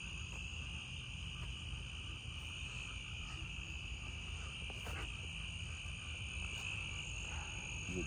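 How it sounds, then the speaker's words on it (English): A dense chorus of many frogs croaks steadily throughout in a swamp at night, with insect trills layered over a constant, busy background. "Ton of frogs right there,"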